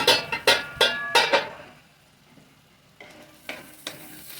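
Onions for kadai biryani fry to a golden colour and are stirred in a pan: a quick run of five or six loud scraping strokes, a quieter sizzling pause, then a few more strokes.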